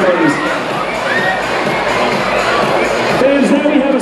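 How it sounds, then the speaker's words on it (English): A large crowd cheers and applauds at a 2016 USSSA state opening ceremony for youth sports teams, a loud, steady roar of claps and shouts, children's voices among them, running through the whole stretch. "A big round of applause and welcome to our state."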